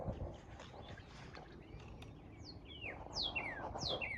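Bird chirping outdoors, a series of short, clear whistled calls rising and falling near the end, over a steady background of wind and ambient noise, no voices.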